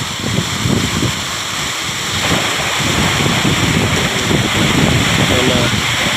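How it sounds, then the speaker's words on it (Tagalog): Strong, roaring wind buffets the microphone in a steady rush, with surf-like noise underneath and no voices. "Malakas na yung hangin."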